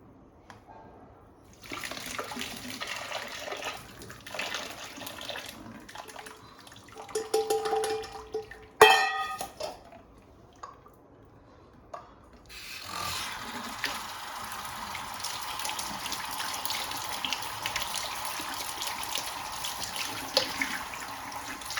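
Boiled soya chunks are tipped into a strainer and their water drains off, with a clatter and splash midway, then a long, steady rush of pouring water at low-moderate level.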